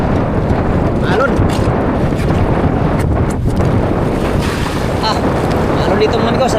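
A choppy sea surrounds a small fishing boat out on open water. A loud, continuous wash and roar mixes with heavy wind buffeting the microphone throughout.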